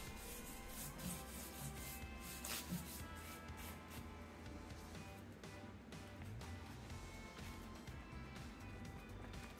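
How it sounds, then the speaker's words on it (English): Quiet, continuous scratchy rubbing of sandpaper over painted wood furniture, a soft back-and-forth rasp that continues without pause. "going over them with a little bit of sandpaper just helps them pop back out"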